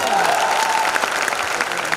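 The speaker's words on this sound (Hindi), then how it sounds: "मैं चाहूंगा हमारे डायमंड साहब के लिए दिल से ताली बजाइए" An audience applauding at a speech event, a dense, loud clatter of many hands clapping continuously for the whole moment.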